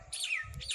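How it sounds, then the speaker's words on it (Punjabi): Short bright bird chirps and a descending tweet from sparrows and other birds in the morning, fairly close, with a low rumble underneath. "ਚਿੜੀਆਂ ਬੋਲ ਰਹੀਆਂ ਨੇ"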